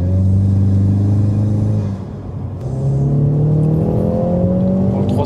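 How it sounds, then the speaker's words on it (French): Four-cylinder EcoBoost engine of a Ford Mustang with automatic gearbox, its intake drawing loudly as it revs, a steady drone that drops away for a moment and then climbs smoothly in pitch under acceleration. "On entend l'admission."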